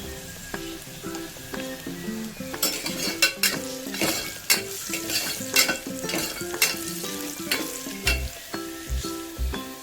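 Turmeric frying in a pan for a village-style liver biryani: a steady sizzle under repeated metal spoon scrapes and clinks against the pan, close and fairly loud, with no talking.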